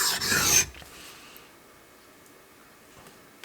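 A custom bushcraft knife drawn across a whetstone in one short, close rasping pass, followed by quiet, then a faint scrape at the end.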